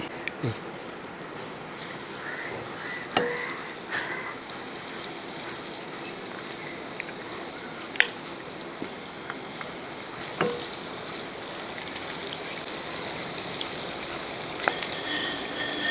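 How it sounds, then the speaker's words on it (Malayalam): Chicken pieces fry in refined oil over a medium flame, giving a soft continuous sizzle with scattered pops and crackles, fairly quiet and steady throughout. "ഇപ്പം രണ്ട് ട്രിപ്പായിട്ട് നമുക്ക് വറുത്തെടുക്കാം"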